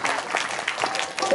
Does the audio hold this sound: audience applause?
yes